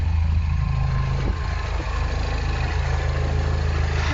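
A Mini Cooper S R56 engine idles steadily at close range, a continuous low rumble with a faint hum and no talk over it.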